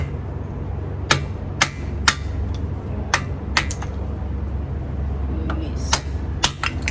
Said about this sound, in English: I have my hammer to make it easier for me to break.